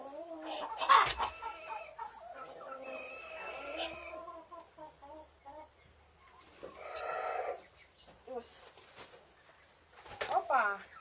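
Broody hens give low, repeated clucks in a barn full of nesting birds, heard up close in short bursts between stretches of someone talking.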